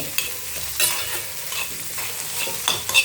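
Beans poriyal with peanut garlic powder is stirred in a pan, giving repeated scraping and clinking strokes of the spoon over a low sizzle, close and fairly clear.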